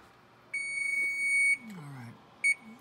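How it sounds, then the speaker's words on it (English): A kitchen timer on an oven gives one long electronic beep and then a short second beep, fairly close, with a voice murmuring in between. "This is the slowest timer in the world."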